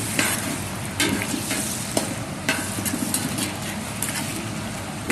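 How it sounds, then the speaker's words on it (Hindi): Fresh tomato paste hitting hot oil in a pot for chicken biryani, a loud continuous sizzle broken by sharp scraping strokes of a spoon as it is stirred in, with no voices. "ये टमाटो की मैं पेस्ट ऐड करने लगा हूँ"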